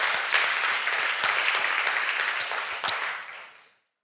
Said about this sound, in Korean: 은혜 주신 하나님께 영광의 박수, 영광의 박수.